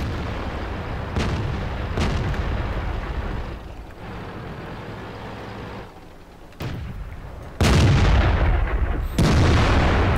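Tank cannon fire from a T150 in the World of Tanks video game: several booming shots spaced through the stretch, the last two loudest and closest, over a steady rumbling background.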